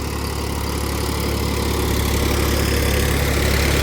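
Mahindra YUVO 475 DI tractor diesel engine running steadily around 1500 RPM while puddling a stony wet field in second gear, a continuous close, loud rumbling chug with no talking.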